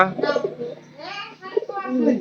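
Pigeons coo softly and repeatedly up close, their low burbling calls mixed with a voice speaking over them.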